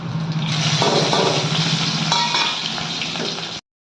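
Garlic, dried chillies and mustard seeds fry in hot oil for western Odisha munga saag, a loud continuous sizzle and crackle with bursts of spitting that run steadily for about three and a half seconds, then cut off.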